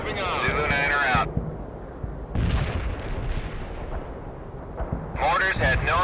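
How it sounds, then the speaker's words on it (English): Mortar fire lands in the battlefield video game World in Conflict, with a booming blast rumbling between bursts of voices and heavy explosive noise. "Mortars had no effect."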